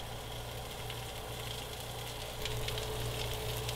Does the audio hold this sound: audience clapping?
no